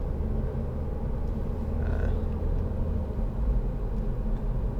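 A 2010 SEAT Leon 2.0 TD FR in third gear at 40 mph joins a slip road, giving a steady low engine and road rumble heard from inside the cabin, continuous and fairly loud.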